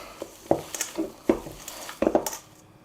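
Cheese being mixed into cannelloni filling, a handful of uneven scraping and knocking strokes of a utensil against a bowl, fairly close and with no voices.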